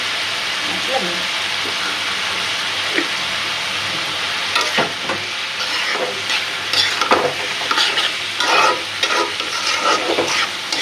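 Vegetables sizzle steadily in a pan while a utensil scrapes and stirs in bursts, the clatter growing busier toward the end.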